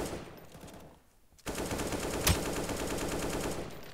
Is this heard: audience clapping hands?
no